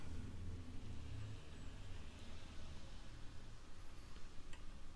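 Steady wash of cars passing outside on a rain-soaked road, a distant, continuous hiss of tires on wet pavement with low engine rumble, faint and unbroken, with no talking.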